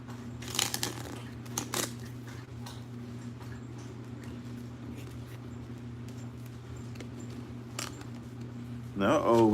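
Tarot cards are shuffled in short, crisp riffling bursts and scattered taps over a steady low hum, with a voice speaking near the end.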